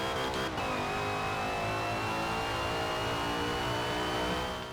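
A Ferrari Daytona races in a video game, its engine note holding a steady, mid-pitched whine while the car accelerates, with a brief rough burst at the start. The sound is continuous and fairly quiet, and there is no talking.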